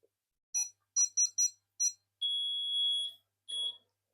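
A 1983 Casio pachinko electronic game beeps as it switches on, a quick run of short bright tones followed by a long sustained beep and one shorter beep, loud and close with silence between.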